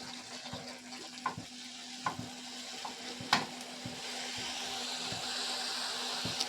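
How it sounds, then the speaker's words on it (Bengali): Rabri milk with sugar boiling in a pan while being stirred, faint bubbling simmer with soft irregular scrapes and taps of the spoon against the pan. "চিনিটা দিয়ে ভালো করে ফুটিয়ে নেব আমি"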